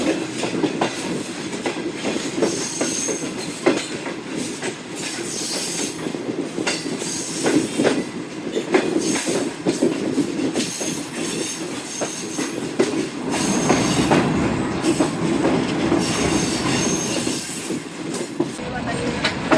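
The Shalimar Express rolls slowly along a curved stretch of track with a continuous rumble and rattling wheel noise, loud and close, with faint squeals and clanks throughout.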